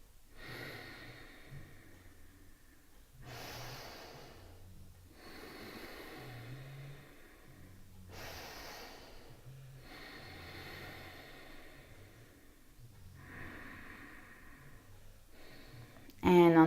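Deep yoga breathing at a slow, even pace, with long audible inhales and exhales repeating about every two to three seconds, close and soft, and a brief louder sound at the very end.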